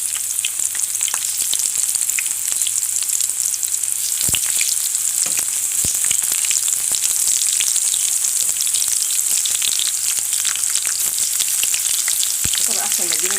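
Eggplant fries in hot oil with a loud, dense, steady sizzle, crackling bright and unbroken, with a few clicks and clunks from the pan, no one speaking.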